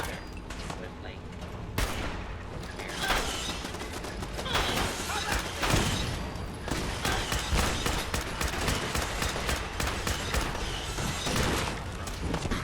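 Rapid bursts of gunfire from an automated turret in Fallout 4, with sustained volleys, sharp individual shots and clattering mechanisms, mostly continuous and loud, under occasional talk.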